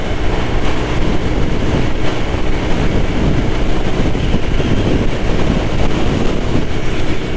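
A TVS Jupiter ZX scooter runs at top speed up a sloping bridge, giving a continuous loud roar of wind and road noise with no pauses.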